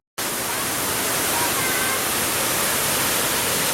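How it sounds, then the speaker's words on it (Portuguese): Cachoeira dos Pretos waterfall in Joanópolis roars as a steady, dense wash of falling water, loud and unbroken throughout with no voices. "Essa é uma vista da segunda queda da cachoeira ou cascata dos Pretos em Joanópolis"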